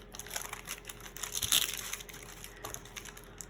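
Sticker paper crinkles and rustles while it is handled on a trashy journal page, with a few soft close crackles. The faint handling noise has a brief sharper crumple in the middle.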